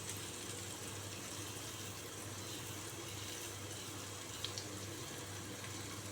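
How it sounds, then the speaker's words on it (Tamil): Water heating in the same pan for kesari gives a steady, faint, even hiss and bubble with no talk. "தண்ணி கொதிக்குது."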